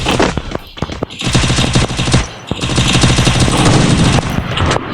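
Gunfire in the video game Free Fire, including a shotgun, comes as loud rapid bursts of shots separated by brief pauses, up close and dominating the mix.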